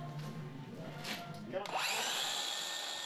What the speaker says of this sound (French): Ou alors, vous utilisez la scie à panneau.